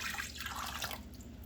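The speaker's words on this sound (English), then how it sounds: "So I filled up the jar with some water, shook it up really good to get all the residue out. So now I'm just going to add that to the pot." Water from a rinsed jar is poured into an Instant Pot while making tacos de lengua, a steady broadband splash and trickle running throughout at moderate, close range with no talking.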